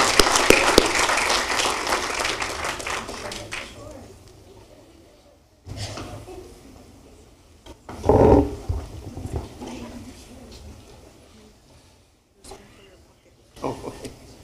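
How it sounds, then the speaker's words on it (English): A round of audience applause at a city council meeting, loud clapping at the start that tapers off over a few seconds, followed by quieter room noise, shuffling and brief bursts of voices. "another round of applause"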